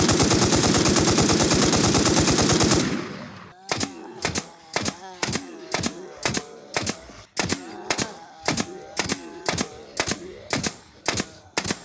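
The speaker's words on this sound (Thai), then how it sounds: "ผมใช้ปืนตะปูอันนี้อยู่" Nail gun firing at a boss in the survival shooter Infest: after a loud burst of dense noise, a steady string of about twenty sharp, evenly spaced shots snaps out close and clear.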